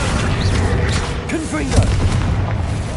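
A Confringo fire spell explosion in the video game Hogwarts Legacy, a deep booming blast under steady game noise, with a character's voice and creature-like chirps around it.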